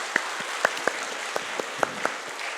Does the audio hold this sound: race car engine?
no